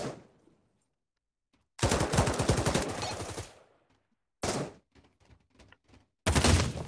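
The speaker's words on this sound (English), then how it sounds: "Oh, he shot me in the face." Bursts of automatic gunfire in the VR shooter game Pavlov, a long rapid rattling volley followed by shorter clusters of shots and another loud burst, separated by silence.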